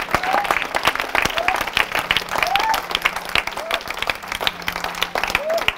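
A church congregation applauds loudly and continuously, a dense close wash of clapping hands with short vocal cries rising above it, and no pauses.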